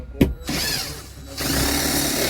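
A power drill pulls long bolts from a Dometic Penguin RV air conditioner on an LTV Unity motorhome, with a sharp knock, then a steady whirring drone running continuously up close.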